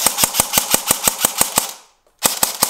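Rapid, loud gunshots crack in a fast regular burst of about a dozen, stop briefly, then start again, aimed at a balcony.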